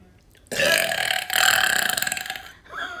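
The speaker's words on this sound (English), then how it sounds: "That is his stealthy burp." A ten-year-old boy lets out a loud, drawn-out burp lasting about two seconds, close to the microphone, with a brief voice just after it ends.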